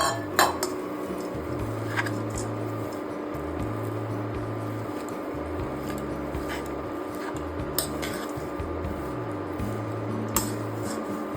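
Warm dates and roasted dry fruits are mixed with a spatula in a pan for sugar-free laddu; soft squishing and scraping continues under a low steady hum, with a few sharp clinks of metal, no talking.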